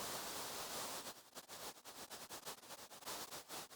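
Steady hiss of synthesized noise from the GMaudio Noizyer Max for Live device that soon begins pulsing rapidly in volume, a flickering, choppy static texture, quiet and without speech.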